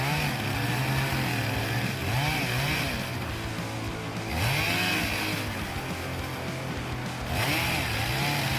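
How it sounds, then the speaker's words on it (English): A chainsaw cuts through a tree trunk, its engine loud and close, surging and bogging in repeated revs as the chain bites into the wood. "As the blade makes contact with the tree trunk, the chain starts slicing through, sending sawdust flying."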